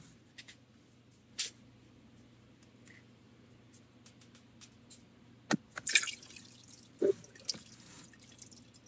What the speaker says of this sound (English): we're going to put that into a colander and let that drip back in here.